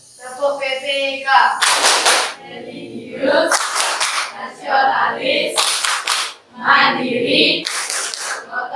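A class performs Tepuk PPK, a chanted rhythmic clapping routine: four loud bursts of quick, sharp group claps, each set between shouted words from the students.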